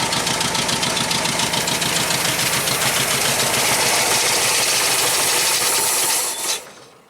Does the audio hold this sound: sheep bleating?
no